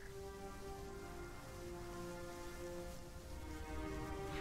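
Steady rain falls in the space-program strategy game Mars Horizon, a dense even hiss of drops on surfaces that holds at one level throughout with no voices over it.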